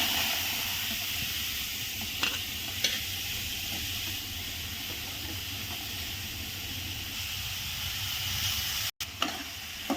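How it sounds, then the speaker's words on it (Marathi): Onion and tomato roast in a pan for a Bombay duck fry, giving a continuous steady hiss and sizzle with a few faint clicks, with a brief dropout near the end. "आता आपण कांदा टमाटा भाजणार आहे"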